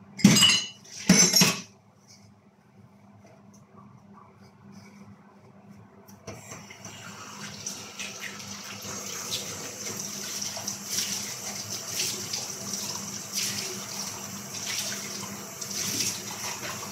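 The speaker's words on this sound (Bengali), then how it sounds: "কিছু কাপ আমি ধুয়ে নিলাম।" Two sharp clinks of tea cups are followed by a pause, then a tap runs steadily while cups are washed under it, with faint knocks of ceramic against water.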